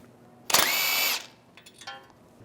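A power tool with a 21mm socket spins a nut off the tie rod of a 2007-2017 Jeep Wrangler, one loud, close, high whirring burst of about three quarters of a second, followed by faint clicks and rattles.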